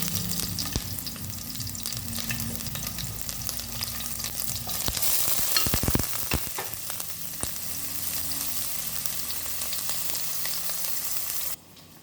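Onion fries in mustard oil for a fish curry, a loud continuous sizzle with a few stirring scrapes midway, cutting off abruptly at the end.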